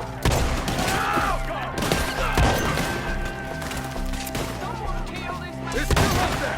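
Rapid gunfire cracks in a shootout in Red Dead Redemption 2, with dense overlapping shots and impacts close by and game characters shouting over the noise.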